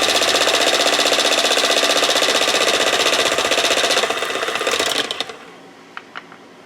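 Fresh eggs beaten hard and fast, likely with an electric mixer, a loud steady mechanical whirring for about five seconds that cuts off, followed by a few faint clicks and taps.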